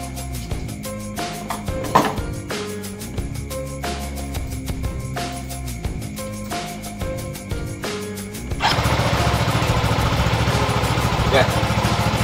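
A Yamaha NMAX scooter is started and left running, its engine idling with a steady mechanical chug beneath a rhythmic electronic tone pattern and talk, then the sound thickens and grows louder as it revs.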